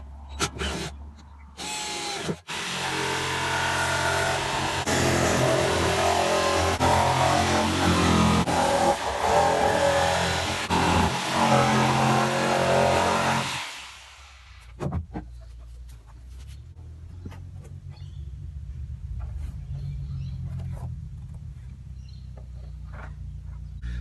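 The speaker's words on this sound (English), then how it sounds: "Now I'm just gonna grab the jigsaw and cut this baby out." Jigsaw cutting a piece out of a workpiece, a loud steady buzzing run for about fourteen seconds that stops abruptly, followed by quieter low rumbling and a few sharp knocks.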